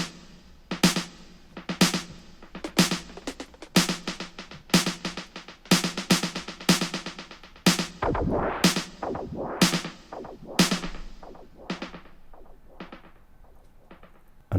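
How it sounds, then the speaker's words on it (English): Valhalla Delay in ping pong mode, a delay bouncing between left and right channels, carrying a busy run of sharp plucked or struck hits whose echoes stack and smear, close and steady with no talking. "ping pong, which is a delay that bounces between the left and right channel"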